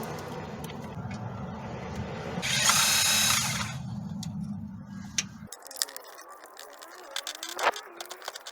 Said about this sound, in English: Next, I'm gonna be removing this bolt here on this side.